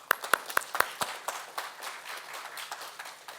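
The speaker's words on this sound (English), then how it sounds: "Can we start with a huge round of applause for that" Audience at an AI Engineering Summit in Bengaluru clapping, starting with a few sharp, loud individual claps that quickly blur into a softer, thinning patter of applause.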